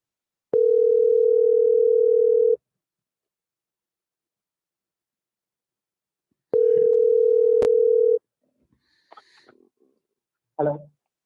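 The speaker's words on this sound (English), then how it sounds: "I'm gonna call this number and see if they'll answer" Outgoing phone call to a scammer's number: two long steady ringback tones separated by a silent gap, followed by faint clicks and a brief burst as the line connects.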